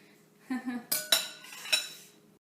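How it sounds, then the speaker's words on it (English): A spoon scrapes and clinks against a bowl while cream cheese, milk and vanilla extract are mixed smooth for cheese blintzes, giving several short metallic taps and scrapes close by with no talking. "Now we're just going to mix all of this up until it's smooth."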